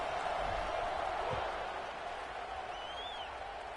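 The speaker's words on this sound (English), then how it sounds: "this crowd is buzzing after that last score" Football stadium crowd at a college game buzzing after a touchdown and extra point, a steady broad roar of many voices in the distance with a short whistle-like rise near the end.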